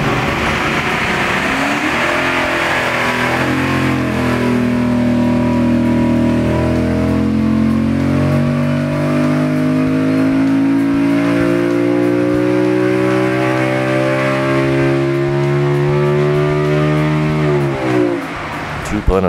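LSX V8 engine fitted with red race intake runners screams up to 9,000 RPM on a dyno, a loud sustained rising howl that climbs steadily before cutting off abruptly near the end.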